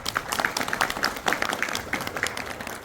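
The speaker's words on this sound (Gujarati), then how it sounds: "તાળીઓથી વધાવી લઈએ આપણે" An audience at a Leuva Patel community seniors gathering claps together, a dense patter of many hands at moderate loudness, slightly distant and sustained for a few seconds.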